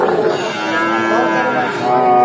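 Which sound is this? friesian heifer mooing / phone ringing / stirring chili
friesian heifer mooing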